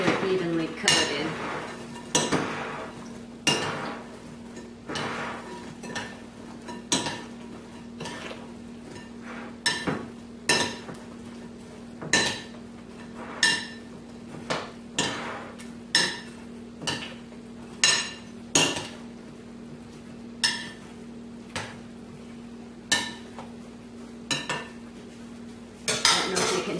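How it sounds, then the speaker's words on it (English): A spoon stirs bread cubes through a caramel mixture in a bowl, giving repeated sharp clinks and scrapes against the bowl at an irregular, steady pace, close up, over a faint background hum. "you want to give them a good stir so that they're evenly coated"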